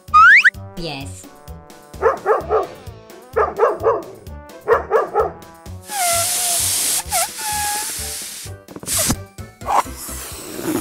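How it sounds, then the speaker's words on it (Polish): A farm dog barks in repeated clusters of sharp woofs, with bursts of hiss and other short sounds between them, and voices briefly present. "pies,"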